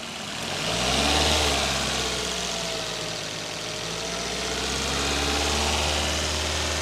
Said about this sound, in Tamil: ஸோ ஒரு கிக்லேயே வந்து ஸ்டார்ட் ஆகிடுச்சு.